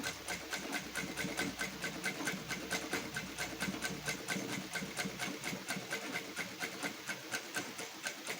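A sewing machine stitches the neckline of a blouse piece in a fast, steady, rhythmic mechanical whir and clatter that runs evenly throughout, close and alone, with no talk.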